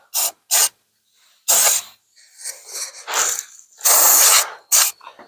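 A car bumper and frame rails are spray painted in short, loud hissing bursts of varying length, separated by pauses, close by.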